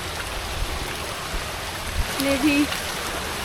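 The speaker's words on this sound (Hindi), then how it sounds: "ये पूरा वाटरफॉल से ही आ रहा है पानी, प्लस बरसात का पानी है" Rushing floodwater from the Dudhsagar waterfall swollen by monsoon rain, a steady broadband roar filling the whole scene with faint talk under it.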